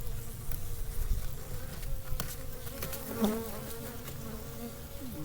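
Honeybees buzzing in a hive during late-season apiary work before winter as frames are shifted, a steady close insect drone throughout with brief louder swells and faint handling noises.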